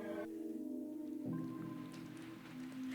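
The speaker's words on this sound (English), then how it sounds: "It kept pouring down on the galvanized iron roof, producing a loud noise." Torrential rain pouring onto a galvanized iron roof in the Higurashi visual novel game, heard as a quiet, steady patter and hiss beneath sustained tonal background music.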